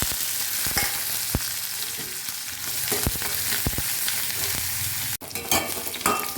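Onion and garlic frying in a pan with cumin seeds, a continuous crackling sizzle with occasional sharp pops and stirring clatters, close and loud, ending with a sudden clank.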